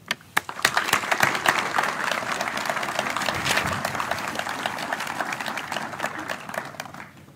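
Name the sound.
round of applause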